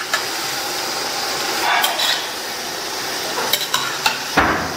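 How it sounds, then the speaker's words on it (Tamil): Food frying in oil in a pan on a medium flame and being stirred until crisp: a steady sizzle broken by a few scraping stirs and light clinks toward the end, close by, with no talking. "கிறிஸ்பி ஆகிற வரைக்கும் இந்த மாதிரி பரட்டி பரட்டி விடுங்க"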